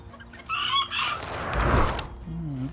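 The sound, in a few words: farm chickens clucking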